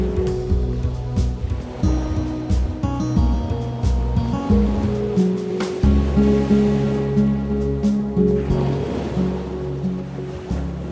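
Ocean waves crash against rugged cliffs on the Oregon coast in a steady, surging roar that swells and recedes, layered over a sustained tonal hum.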